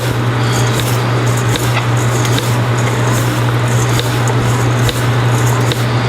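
Onions and mozzarella cheese are mixed by hand in a bowl, giving close, wet squishing and rustling with a steady low hum underneath.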